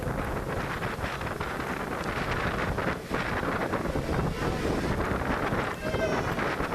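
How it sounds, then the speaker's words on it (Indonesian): Strong, brief wind gusts buffet the microphone in a constant loud roar, rushing steadily with slight surges and dips and no break throughout. "Beruntung angin kencang hanya berlangsung sebentar dan kembali mereda"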